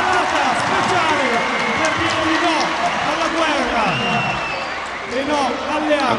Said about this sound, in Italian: L'applauso dello stadio di Empoli per questa serata speciale.